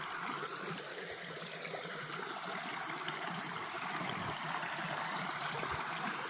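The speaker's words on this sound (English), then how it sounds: "This is a lot more water coming through this one." A mountain stream beside a hiking trail, fed from a cut in the mountain, flows with a steady, full rushing and babbling wash close by, unbroken throughout.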